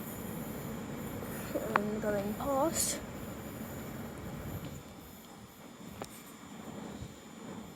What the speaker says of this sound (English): it said there's a train approaching